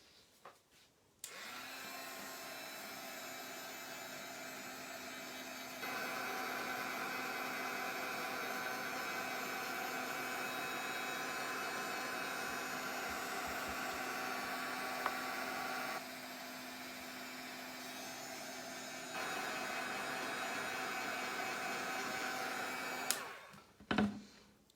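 An electric hair dryer blows steadily to dry ink on a mixed media paper tag. A loud continuous whoosh starts abruptly and its pitch shifts slightly between settings before it cuts off near the end.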